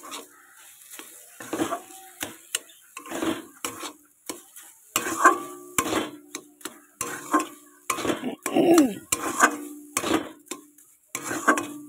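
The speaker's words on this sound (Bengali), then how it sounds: "এবার এটাকে আমি সুন্দর করে নাড়বো।" A spoon stirs carrot laddu mixture with sugar in a pan, producing intermittent scraping bursts and soft sizzling with clinks of metal against the pan, close and fairly loud.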